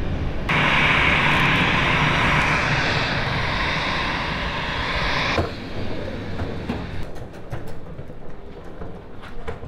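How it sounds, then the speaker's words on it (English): Jet aircraft roar loudly and continuously at an airport, a broad engine rumble that holds steady and then eases to a lower, rougher drone with faint clatter toward the end. "y'all already hear planes going and shit like that. Because, you know, it's an airport"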